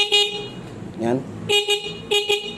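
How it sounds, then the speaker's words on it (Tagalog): A stock car horn, wired to a switch during a horn relay installation, sounds several short toots in bursts, near and loud, with someone speaking briefly between them. "yun yung stock natin na busina."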